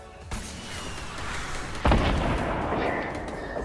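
Rockets or grenades explode in a Fortnite Battle Royale match on PS4, with a sharp blast near the start, a louder broadband boom near the two-second mark, and a continuous rumbling din of gunfire and explosions in between.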